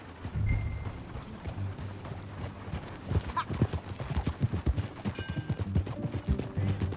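Rhythmic clip-clop of horse hooves at a steady trot in Red Dead Redemption 2, close and fairly loud, over a low rumbling background with a brief voice early on.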